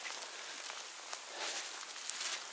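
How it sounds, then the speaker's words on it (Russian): Steady rain falls outdoors over a river floodplain near Cherdyn, a faint, even hiss of drops with occasional closer patters and no voices. "Удивительный дождь."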